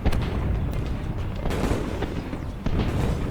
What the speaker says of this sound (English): As exploding shells began to start fires in Friedland